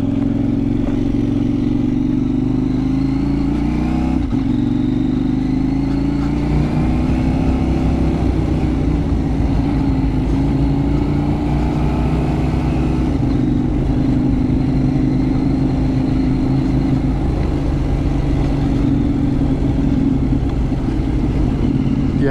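A KTM 890 Duke R motorcycle rides over Cumbrian mountain passes, its engine droning steadily with shifting pitch as it climbs and slows, a continuous close mechanical hum with wind noise and occasional clatter.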